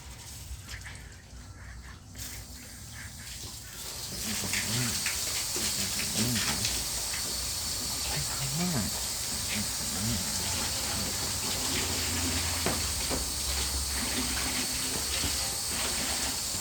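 Steady water spray hisses close and loud, rinsing Nu-Calgon Tri-Cleaner off after starting about four seconds in, and runs on without a break while faint speech-like murmurs sit underneath.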